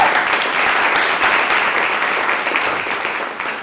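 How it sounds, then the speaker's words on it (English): An audience claps in steady, dense applause that continues without a break for the whole stretch. "Let's give him another round of applause."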